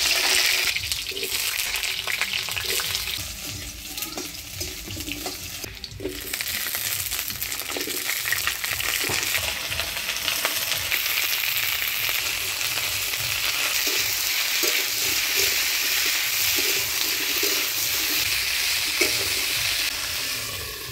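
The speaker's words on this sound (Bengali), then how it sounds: "সবার প্রথমে আলু ফুলকপিটা ভাজে নিই হলুদ লবণ দিয়ে।" Potato and cauliflower pieces fry in hot oil in a wok with turmeric and salt, a steady close sizzle lasting throughout with occasional stirring scrapes and clinks.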